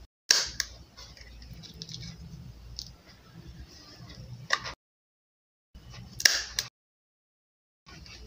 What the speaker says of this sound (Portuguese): Estou pegando aqui o meu cortador e vou cortar os lacinhos aqui.